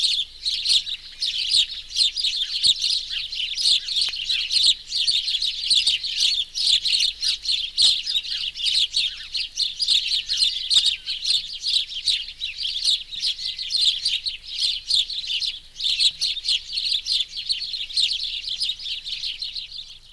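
Dense, continuous chirping of a roosting flock of sparrows in a back garden shrub, many birds calling at once with overlapping tweets, fairly near and steady throughout.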